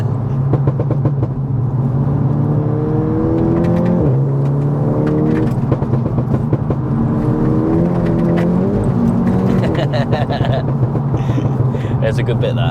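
A 511 bhp hybrid-turbo Cupra 290 accelerates hard, its engine note climbing through the gears in loud rising sweeps heard from inside the car, with people talking over it.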